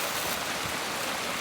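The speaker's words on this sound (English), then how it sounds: "We love our creek." A backyard creek flows steadily in a continuous broadband rush, close and fairly loud, with no voices over the water.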